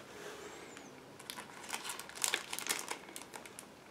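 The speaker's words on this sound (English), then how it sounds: "Now just give me a second to open this plastic bag because it's a sealed plastic bag." Crinkling and crackling of a sealed plastic bag being opened, with soft scattered rustles building to sharper crackles; faint and close, with no talking.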